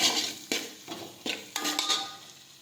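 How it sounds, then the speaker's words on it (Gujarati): A spatula stirs and sautés dry potato sukhi bhaji with sugar in a pan, making about five scraping, clattering strokes in an uneven rhythm over a soft sizzle. No one speaks. "હવે આપણે ખાંડ નાખીશું ફરી પાછું આપણે સાતળી દઈશું"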